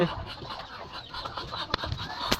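A rooster clucks and squawks in short, uneven bursts while being caught in a backyard, with scuffling close by and a few sharp louder cries.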